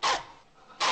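A mutt gives two sharp barks, one at the start and another at the end, close and loud with a quiet gap between them.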